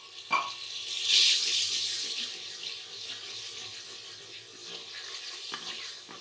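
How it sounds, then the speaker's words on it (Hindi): Water poured into a cooking pan holding ground coriander powder and spices for an aloo methi curry, a brief hissing splash near the start that fades to a soft simmering wash. "थोड़ा सा हम पानी डालेंगे ताकि ये सारा मेल्ट हो जाए।"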